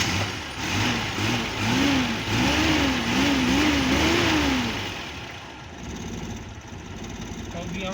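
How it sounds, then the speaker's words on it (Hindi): A car engine, freshly tuned, starts and runs, rumbling and revving up and down at medium pitch. A voice talks over it for the first few seconds before the engine settles to a steadier idle. "तो अभी गाड़ी स्टार्ट करते हैं जी।"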